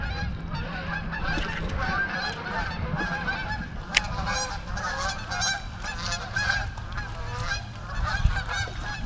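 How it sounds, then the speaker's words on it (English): Geese by Lake Lanier honk repeatedly in a noisy, overlapping chorus, fairly close and sustained, with a few louder calls standing out. "Even the geese are approving."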